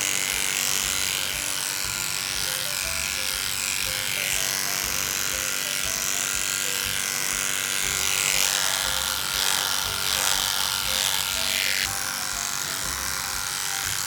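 Electric clippers fitted with an inch snap-on comb trimming a dog's back leg, giving a loud, steady, close-up buzz that holds for the whole stretch with small shifts as the blade moves through the fur.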